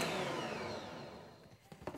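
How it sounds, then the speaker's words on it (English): An electric mixer whirs loudly and steadily over dry biscuit ingredients, its motor pitch slowly dropping before winding down into a few scattered knocks near the end. "we want to put the lid on the mixer and we want to give it a good mix"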